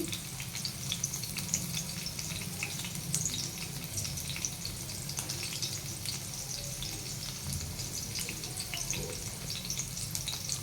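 Bitter gourd pieces deep-fry in oil over a medium flame, giving a steady, dense sizzle with scattered crackles and pops that holds evenly throughout, close and fairly loud with no voices.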